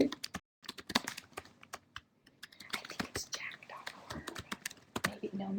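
Keys clatter on a computer keyboard in a burst of rapid, uneven taps, close and crisp, with a brief pause near the start and quiet whispered talk running beneath the typing.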